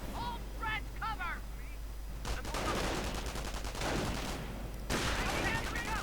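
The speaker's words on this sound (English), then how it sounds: "the MG42 opening up on them as they retreat" MG42 machine gun fire in a strategy video game battle. Bursts of rapid automatic fire crackle under continuous game noise, and a louder burst arrives near the end.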